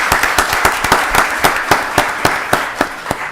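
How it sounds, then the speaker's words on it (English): Sparse, sharp claps ring out in an uneven rhythm at a county board of commissioners meeting, a handful of people clapping briefly rather than a full crowd. "Give Tony Holmes a round of applause."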